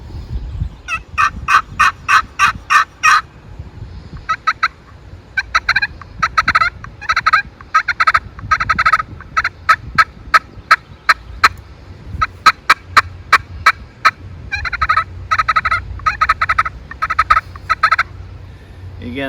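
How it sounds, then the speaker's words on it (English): Rapid, loud wild turkey gobbles repeat in bursts over a steady low rumble, the rattling calls coming close and insistent with brief pauses between runs. "The call here again is the challenge of the wild turkey."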